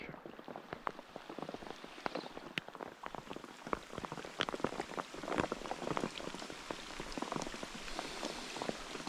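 Steady rain patters across the surface at a pond while fishing for crucian carp with rod and worm bait, a dense continuous spatter of close, crisp drops with no voices.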